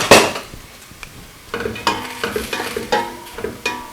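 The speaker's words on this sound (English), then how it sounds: "I'm starting off this soup by frying some leeks." Leeks fry in a soup pot, a soft sizzle under repeated clinks and scrapes of a spoon stirring, with a sharp clatter at the start and a run of rhythmic strokes toward the end, no talking.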